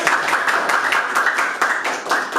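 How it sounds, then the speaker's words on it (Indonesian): A classroom group claps together in dense, lively applause, the rhythmic hand claps continuing evenly close by with no voices over them. "Berikan tepuk tangan yang meriah"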